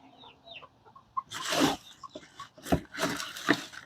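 Chickens clucking in a backyard flock being fed garden scraps, a series of close, uneven bursts of clucks and squawks that grow busier in the second half.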